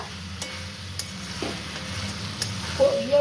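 Food fries quietly in a pan in a home kitchen, a low steady sizzle with a few sharp clicks of utensils and no talk.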